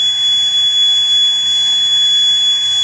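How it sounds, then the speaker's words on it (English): A gas sensor's buzzer alarm sounds on a greenhouse robot, a loud, steady, piercing single-pitch tone held without a break, heard alone and close. "if it detects any gas in the sensor, it automatically detects and the buzzer alarm will be turned on"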